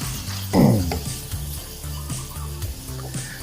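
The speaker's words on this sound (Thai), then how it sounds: "ในขั้นตอนนี้เดี๋ยวเราผัดให้ เนื้อหมูของเราสุก" About 250 grams of pork stir-fries in a pan with chili paste, a brief loud sizzling burst as meat hits hot oil, then a low steady fry with light clinks of stirring.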